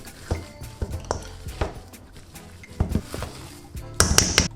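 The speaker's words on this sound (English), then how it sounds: "Add the potatoes into this bowl and mash them completely." Boiled potatoes mashed in a bowl give irregular thuds and soft squelches from a masher knocking against the bowl. Metallic clinks cluster toward the end, close and alone without voices.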